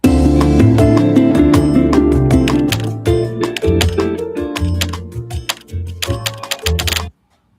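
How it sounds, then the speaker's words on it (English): Keyboard typing sound effects from a video ad template: rapid, crisp key clicks in dense bursts over a backing tone, thinning into scattered taps before stopping abruptly. "So that's the typing, all these sounds down here."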